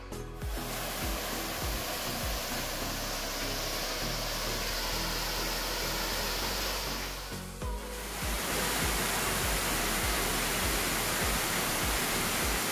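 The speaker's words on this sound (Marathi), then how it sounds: "इकडं धबधबा आहे." A waterfall in a hilly valley at Mukundraj Valley near Ambajogai, a constant broadband roar of falling water, close and steady, with a brief dip partway through.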